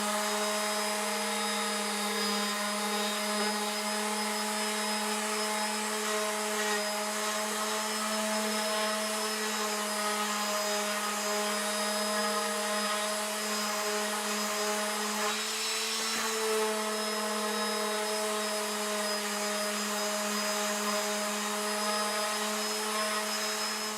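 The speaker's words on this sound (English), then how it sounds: "we'll get the sander set up and we'll do a bit of sanding" A power sander with 180-grit paper drones steadily and loudly with a high electric whine, sanding wood without pause and with no voices.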